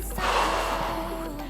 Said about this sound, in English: Taking a deep breath in and breathing out.